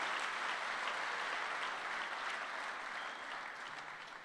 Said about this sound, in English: Let's give them an encouragement, round of applause.